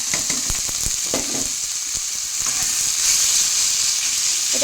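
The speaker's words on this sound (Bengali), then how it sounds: "আর এবার আমি এই কড়াইয়ের মধ্যে এটা দিয়ে ভাজা ভাজা করে নেব।" Water-squeezed marinated chicken momo filling frying in oil in a kadai gives a steady loud sizzle and hiss, close up, with stirring scrapes and small crackles throughout.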